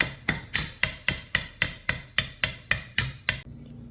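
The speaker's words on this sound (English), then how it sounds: "I'm just going to use the small hammer here and work that all the way over" A small hammer strikes a chiseled metal armor edge to fold it over, giving about eleven sharp, evenly spaced metallic blows in a steady rhythm, close and loud, then stopping.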